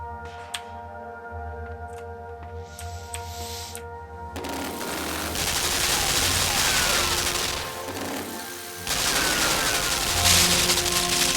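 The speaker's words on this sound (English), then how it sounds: "These automated machine guns" Automated machine guns firing in the video game Limbo, a loud, sustained burst of gunfire that starts a few seconds in over a quiet droning backdrop, briefly dips, then resumes dense and continuous to the end.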